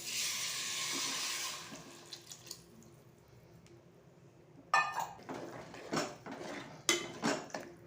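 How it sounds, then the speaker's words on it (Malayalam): Strained tamarind water is poured into a pot of okra curry, a steady rushing splash for about two seconds, followed by quieter sharp clinks and clatters of a utensil against the pot. "നേരത്തെ വെള്ളത്തിലിട്ട് വെച്ച പുളി അതൊക്കെ പിഴിഞ്ഞ് ഞാൻ സെറ്റാക്കി ഇവിടെ വെച്ചിട്ടുണ്ട് അപ്പോൾ അതിൻ്റെ വെള്ളം കൂടി ഇതിൽ ഒഴിച്ചു കൊടുക്കാം"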